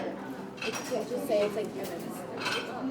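Shaken iced coffee is poured off over ice, with glassy clinks and rattling cubes knocking against a container, accompanied by close talking.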